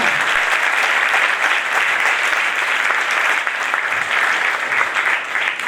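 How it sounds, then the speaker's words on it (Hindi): A church congregation at a first-anniversary service in Karachi breaks into loud, sustained applause, a thick uniform roar of many hands clapping that carries on without a break. "खुदा यीशु मसीह के लिए जोरदार तालियां।"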